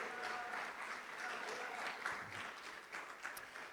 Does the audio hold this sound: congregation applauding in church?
yes